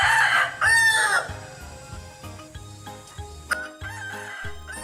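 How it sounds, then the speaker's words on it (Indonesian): A rooster crows loudly twice in long, wavering calls while chickens cluck in short repeated bursts between and after the crows, all close by. "Ayam, chicken."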